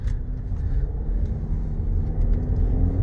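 A 2023 Lexus RX 350 F Sport on a test drive gives a steady low cabin rumble of road and engine noise, constant and muffled with no talking.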